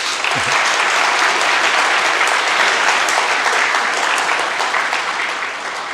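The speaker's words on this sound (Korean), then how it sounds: "우리 찬양대의 수고를 격려하는 의미에서 박수 한번 주시죠" A church congregation at a Sunday worship service claps for the choir, a dense, even wash of applause holding steady for several seconds before easing slightly at the end.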